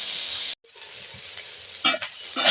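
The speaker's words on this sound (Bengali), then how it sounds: "নাড়াচাড়া করছি পুরোপুরি ভাজা হয়ে এসেছে" Small thin-skinned potatoes with onion greens stirred as they fry in a pan, a steady loud sizzle broken by a brief pause, then scraping stirs near the end.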